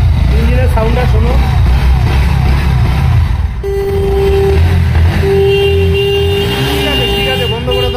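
A second-hand Honda NS motorcycle with about 12,250 km on it idles and revs unevenly nearby in a used-bike showroom, the engine drone steady under continuous talk from several people.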